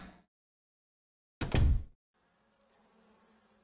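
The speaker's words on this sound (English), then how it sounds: "Damn, the bees are still here." Bees buzzing in the video game Resident Evil HD Remaster, a faint, wavering drone that rises after a sharp burst of noise, following a brief sound at the start and a stretch of silence.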